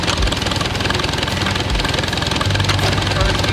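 An old Farmall Super A tractor engine runs steadily while being driven out of a small ditch, a loud continuous low chugging drone with a few louder thumps, close by.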